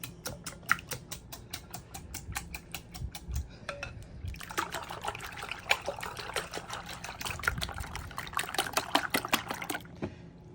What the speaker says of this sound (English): now just getting to whisking